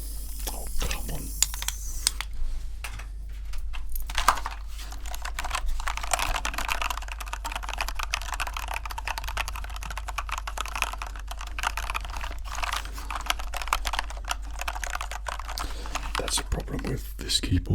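Rapid, dense clicking of fingers typing on an expensive backlit computer keyboard, crisp and close, continuous keystrokes with a low steady hum beneath.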